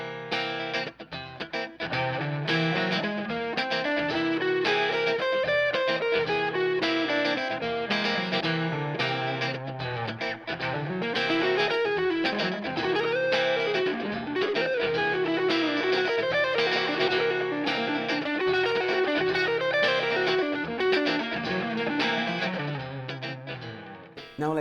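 Electric guitar runs up and down a whole tone scale through distortion and chorus effects, notes flowing in continuous rising and falling lines over a sustained bass, loud and close for about twenty-five seconds.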